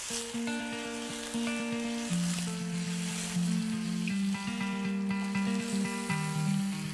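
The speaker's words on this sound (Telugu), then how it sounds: "ల్యామ్ పీసెస్ని మనం ముందుగానే యాడ్ చేసుకుని ఫ్రై చేసుకుంటే" Lamb pieces fry in a pan for curry, a constant sizzle running beneath sustained tonal music that plays throughout, with no talking.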